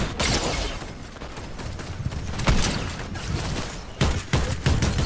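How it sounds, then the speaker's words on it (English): Rapid gunfire in a VR battle royale game, dense volleys of shots and cracks crowding over a noisy background, with a few sharper loud bursts standing out near the middle and end. "I'm getting shot from my side"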